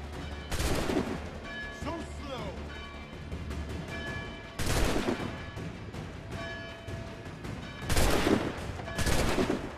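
Gunfire bursts from Assassin's Creed III: several loud volleys of shots at about 0.5, 4.6 and 8 seconds, with scattered crackling and battle noise in between.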